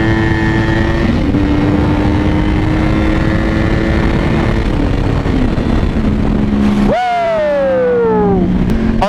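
Honda CBR600RR motorcycle accelerating on a highway, engine pitch climbing through gears with a brief dip at a shift, then a sharp rising rev near the end, loud and close under rushing wind.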